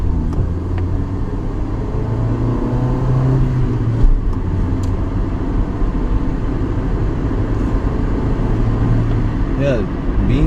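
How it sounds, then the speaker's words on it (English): A 1999 Honda Civic VTi petrol car accelerating, with a loud, steady engine rumble and road noise that holds throughout and rises slightly as it pulls away. "Let me show you the acceleration."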